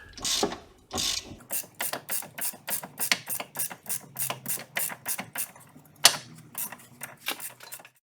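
A ratchet wrench clicks rapidly in repeated bursts while tightening a bolt on a Chrysler 300M during a reaction-arm bushing replacement, with brief pauses between strokes and no talking.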